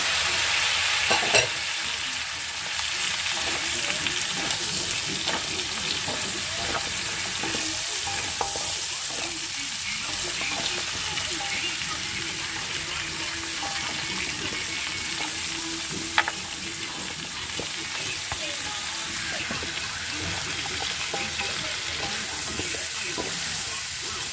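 Jackfruit for adobong langka frying and being stirred in a pan, a steady loud sizzle with scraping stir strokes running throughout, a few sharper clinks near the start and middle.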